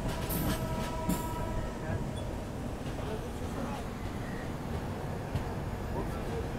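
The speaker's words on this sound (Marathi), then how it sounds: "बाजूला ट्रेन ती चालली आहे ती आहे काकीनाडा पोर्ट टू लोकमान्य टिळक." The Kakinada Port to Lokmanya Tilak express rolls past on an adjacent track as a steady low rumble and rattle of wagons, with faint squeals and clanks.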